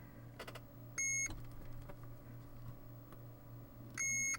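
Two short, loud electronic beeps from a multimeter's continuity tester while probing a Summit Autoslot power supply with a no-power fault, each a steady tone about a third of a second long, spaced about three seconds apart over a low background hum.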